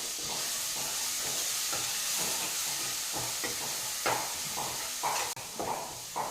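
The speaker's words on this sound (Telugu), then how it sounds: "ఆయిల్లో పేస్ట్ వేసిన తర్వాత పచ్చివాసన పోయే వరకు కొంచెం ఫ్రై చేయాలన్నమాట" Paste frying in hot oil in a pan while cooking egg fried rice: a steady close sizzle and hiss, with scraping stirring strokes and a few sharper clatters near the end.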